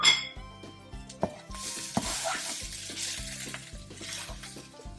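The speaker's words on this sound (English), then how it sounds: "I'm going to add my masalas to my dish, and as soon as you add that, you give that a quick toss." Spices for Punjabi dhaba-style lobia masala hit a hot pan and are tossed, giving a steady sizzle with several sharp clinks and scrapes of a utensil against the pan, close and fairly loud, no talking.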